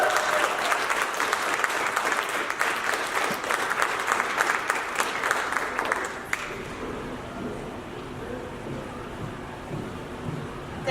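An audience claps loudly and steadily in a hall for about six seconds to welcome a woman doctor to the stage, then the clapping thins out and fades into a quieter room murmur.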